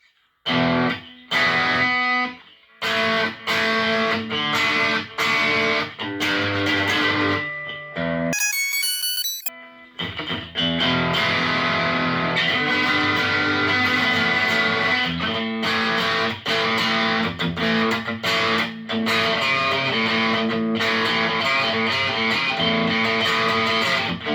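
Loud distorted electric guitar on the bridge pickup of a Harley Benton TL kit guitar, played continuously, bright and biting chords with quick stops and restarts and a brief high-pitched electronic chirp midway.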